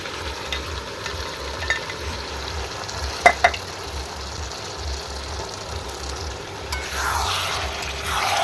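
Goat head meat being sautéed in a pan, a low steady sizzle and bubbling with a couple of brief utensil clinks, no one speaking.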